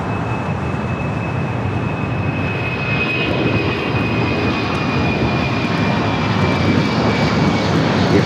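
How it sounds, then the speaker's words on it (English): A UPS Boeing 767 takes off from LAX, its jet engines a loud, steady roar with a thin high whine running through it, growing slightly stronger as it climbs. "we do have the UPS 767 taking off here on the south"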